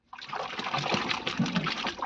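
A white shirt is shaken in a basin of water, giving a continuous close splashing and sloshing that runs steadily for about two seconds with no talk.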